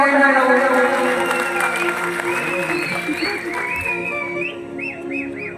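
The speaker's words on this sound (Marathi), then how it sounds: "टाळ्या होत्या" An audience at a kalgi-tura shahiri singing contest applauds loudly, and the clapping is mixed with whistles and sung or raised voices that carry over the crowd throughout.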